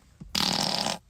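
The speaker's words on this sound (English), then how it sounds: "I'm farting on it." A loud, sustained fart lasting about half a second, close up and standing alone with a faint short blip just before it.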